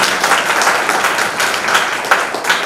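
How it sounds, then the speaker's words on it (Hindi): A hall audience at a Hindi language fortnight closing event at a law college claps loudly and continuously, a dense wash of hands with small swells and no talking. "तो एक बार तालियां वालियां जोर से बजाएं"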